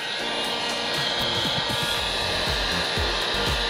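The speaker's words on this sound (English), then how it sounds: "Now we're gonna get our heat gun," A heat gun blows a steady, loud, close whooshing roar while shrinking glue-lined heat-shrink tubing for weatherproofing, running continuously without pause.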